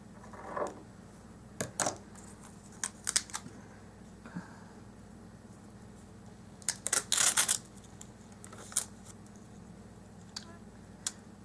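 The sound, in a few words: cutting washi tape strip for planner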